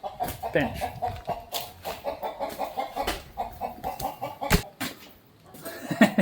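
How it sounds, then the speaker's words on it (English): A hen clucks excitedly after laying an egg on a workbench, with repeated short squawks and cackles rising and falling over several seconds amid faint background noise. "I think a chicken just laid an egg on my bench."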